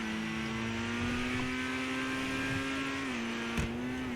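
A Grotti Turismo Omaggio sports car in the video game GTA cruises with a steady, sustained engine drone and slight pitch shifts as it corners, holding a constant level throughout with no talk.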